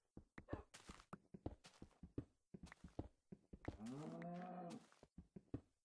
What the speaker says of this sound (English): Go and be free, Mr. Cow.